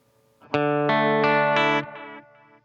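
Guitar notes through a Strymon Timeline modulated delay at slow speed, four loud, smooth picked notes in a steady rhythm, then softer delayed repeats trailing away.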